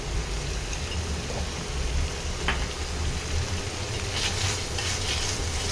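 Spiced masala paste cooks in a pan for a Bengali tangra fish dish, giving a steady close sizzle and crackle throughout with a few soft scrapes of stirring.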